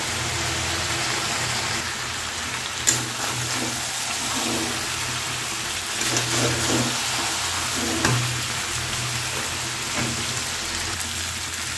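Mutton sautéing with cumin and chili powder in a pan: a steady, dense sizzle and crackle throughout, with occasional stirring scrapes and small pops.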